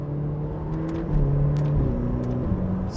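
A Ferrari F8 Tributo engine pulls hard through the gears from close range. Its steady rising drone shifts pitch at each gear change, and no voices are heard over it.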